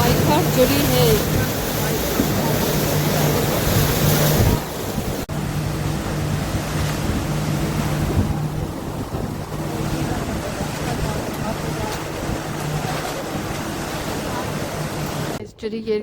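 A water bus heading to Kinderdijk, moving along a river near the Erasmus Bridge, with a constant rushing of water and engine hum mixed with heavy wind noise; a voice speaks over it.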